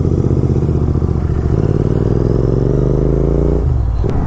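A Yamaha R15 V2 and a KTM Duke 200 ridden on the road, loud close engine drone with rising pitch as they accelerate, then a sudden drop, no talk.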